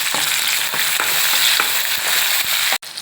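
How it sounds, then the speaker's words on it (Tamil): Onions and tomato sizzle steadily in a hot pan for a spicy plantain gravy, with periodic scraping stirs and a brief clunk just before the end. "இப்போ தக்காளி நல்லா வதங்கிடுச்சு"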